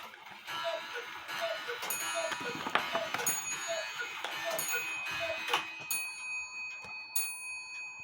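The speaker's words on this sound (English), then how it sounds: "stopping the clock from ticking." A German-made alarm clock ticks steadily in quick, even beats, close up, with a few faint metallic dings and handling sounds near the end.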